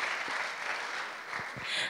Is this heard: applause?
yes